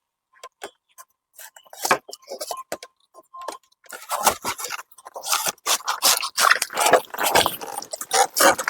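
A large Nendran banana bunch is cut down, giving a series of close, scraping and hacking cuts that start sparse and quiet, then grow denser and louder, with faint voices now and then.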